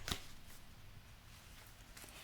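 A tarot deck is shuffled in a short riffle, with a crisp burst of card flutter at the start and soft faint card handling after, close and quiet with no voices.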